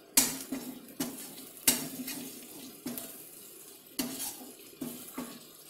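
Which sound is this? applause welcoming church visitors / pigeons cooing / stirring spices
stirring spices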